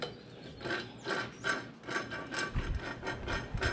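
New gears are fitted by hand into the transmission of a Mercury 15hp outboard motor, giving soft, close ratcheting clicks and metal-on-metal rubbing in an uneven rhythm of repeated short bursts, with no talking.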